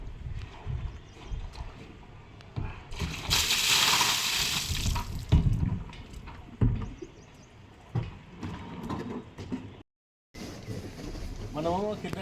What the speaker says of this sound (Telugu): ట్యాబ్లు తిప్పినాం కదా వాటర్కి